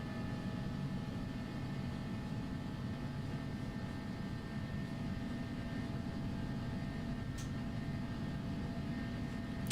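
Simulated Airbus A300-600 jet engines in X-Plane 12 during a takeoff roll at Milan, a steady loud broadband roar with whining engine tones held constant throughout, no pauses.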